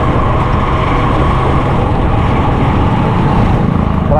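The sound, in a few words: road traffic noise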